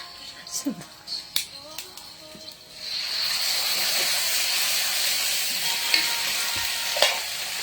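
Pork belly (liempo) drops into a hot pan partway through and sets off a loud, steady sizzle and hiss. Before it goes in there are scattered clinks and taps from the kitchen, and faint talk sits underneath.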